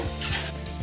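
Pork ribs and chicken pieces sizzle steadily in hot oil in a pot, giving a loud, close, continuous crackling hiss with no talk.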